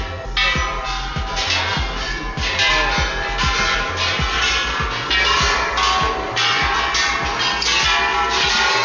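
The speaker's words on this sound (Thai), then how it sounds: "ก็สามารถที่จะ ตีระฆังไปได้เรื่อยๆไหวไหม" A temple bell at Wat Nong Hoi is struck over and over in a quick, steady rhythm, each loud, close clang overlapping the ringing of the last.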